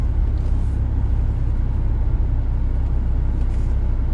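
A tuned Land Rover Discovery 2 with a Storm Tuning Stage 3 upgrade, its engine and exhaust pulling steadily under acceleration, a continuous deep rumble heard from inside the vehicle with road noise and no talking.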